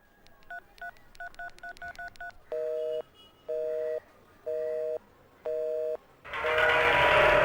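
Quick bursts of touch-tone dialing beeps, followed by four longer ringing tones and then a sudden rush of static hiss.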